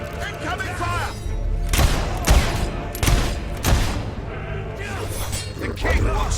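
Enemy soldiers open fire in the video game Fable 3, a rapid volley of sharp, booming shots in uneven bursts, mixed with voices and other battle noise from the game.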